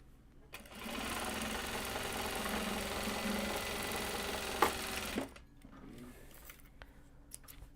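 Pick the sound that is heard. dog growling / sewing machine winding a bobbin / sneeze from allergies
sewing machine winding a bobbin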